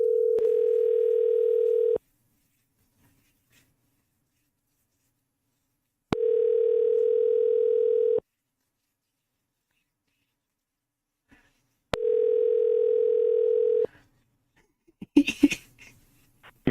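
Three steady telephone tones ring out while calling someone back, each about two seconds long and separated by roughly four seconds of silence. A faint rustle and breath follow near the end.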